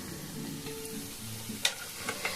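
Flattened pieces of gram flour dough fry in oil over a low flame, a steady soft sizzle broken by a few sharp crackles near the end.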